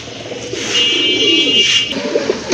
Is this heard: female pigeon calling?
yes